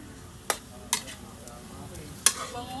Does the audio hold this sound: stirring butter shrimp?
yes